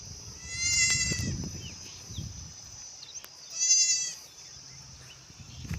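Two goat bleats, a nearer one early and a second a few seconds later, over a quiet outdoor background with faint low rustling.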